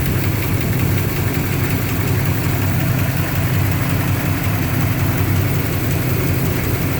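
A 1974 Chevy K10 truck with 61k original miles idles after a cold start, a loud, steady low engine rumble with a constant vibrating drone close by and no talk over it.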